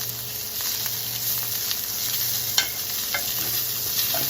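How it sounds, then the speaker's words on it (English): Butter with sprigs of rosemary sizzles in a hot pan, a steady, even hiss with a faint high whine and one brief knock partway through. "And we're going to throw some butter into this pan."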